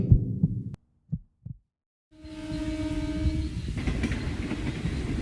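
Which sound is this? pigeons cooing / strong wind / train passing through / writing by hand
train passing through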